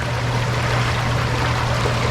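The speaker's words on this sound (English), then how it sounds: "just the water running." A creek runs through a pine forest in Glacier National Park, a steady, close, continuous rush of flowing water with no other sounds.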